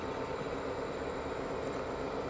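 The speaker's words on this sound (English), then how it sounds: "As the locomotives pass by, listen to the power as they struggle to pull" G scale BNSF model locomotives haul a loaded 240-pound coal train up a 2.5% grade, giving a steady, close, droning rumble of motors and rolling wheels with no talk.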